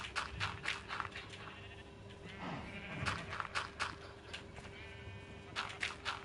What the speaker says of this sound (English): I'll be getting rid of these sheep at some point, or at least condensing them so that they're a lot less noisy